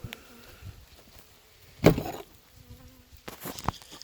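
Honeybees from an old hive colony in October buzz as they fly past close to the microphone, with a few distinct louder passes standing out over a quiet outdoor background.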